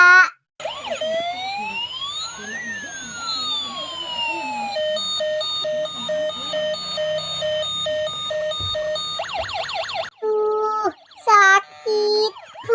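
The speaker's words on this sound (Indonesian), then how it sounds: "Dek, ambulannya sudah datang tuh." An ambulance siren wails and sweeps through rising and falling tones, then switches to a two-tone pattern, loud and close, ending in short broken bursts.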